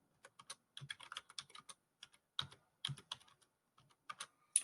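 Typing on a computer keyboard in irregular short bursts of key taps with scattered louder strokes, close up in a quiet room and without speech, while entering slide text in Microsoft PowerPoint 2019.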